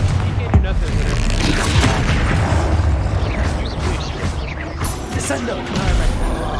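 Confringo fire spells burst in Hogwarts Legacy combat, a dense, continuous barrage of booming explosions and crashes, loud and close throughout.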